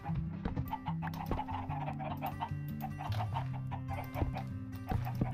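Chickens cluck repeatedly in a video game, a busy overlapping run of clucks and short squawks at a steady moderate level, mixed with a faint musical tone.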